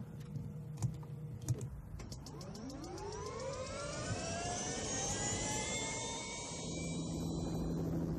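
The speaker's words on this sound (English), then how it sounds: "For Max, the office is a Bell Jet Ranger 3." Bell JetRanger III helicopter flying, a turbine whine rising in pitch and holding steady alongside a continuous engine roar, with a few faint clicks near the start.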